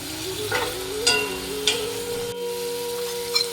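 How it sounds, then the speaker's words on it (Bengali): Onions frying with a bay leaf in a pan give a steady close sizzle, with occasional stirring scrapes and no talk. "পেঁয়াজটা লাল লাল করে ফ্রাই করে নেবো।"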